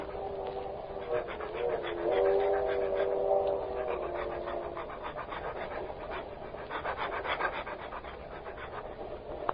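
A dog pants rhythmically on a leash, steady quick breaths running throughout, with faint shuffling and a brief whine-like tone early on; voices murmur in the background.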